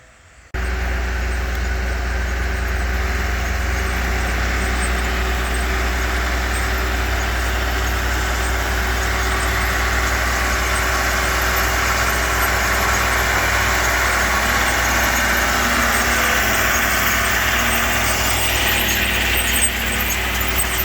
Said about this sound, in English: I guess I never realized how much coal that tractor will blow when she's working.